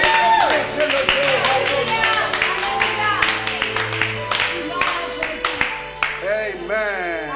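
A church congregation claps rhythmically and cheers in praise, the loud sharp claps mixed with singing voices, music and speech carrying over the crowd.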